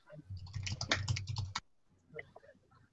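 Rapid typing on a computer keyboard during an online meeting, a dense run of close clicking keystrokes for about a second and a half, then a pause and a few sparser, fainter key taps.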